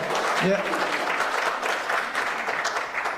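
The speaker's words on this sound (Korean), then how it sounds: "방금 강의를 끝내신 서채종 대표님에게 다시 한번 큰 박수 보내주십시오" Sustained audience applause following a lecture on abolishing inheritance tax, a dense steady wash of clapping from a hall crowd with a brief voice near the start.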